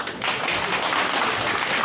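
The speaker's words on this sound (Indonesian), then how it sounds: "Luar biasa, tepuk tangan." Audience applause at a school anniversary event, a brief dense burst of clapping from a crowd, loud and steady from start to finish.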